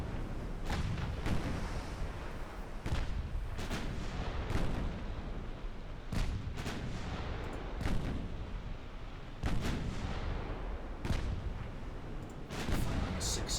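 Naval ship guns firing in Ultimate Admiral Dreadnoughts, a string of heavy booming shots spaced irregularly over a constant low rumble of battle ambience, with a few sharper cracks near the end.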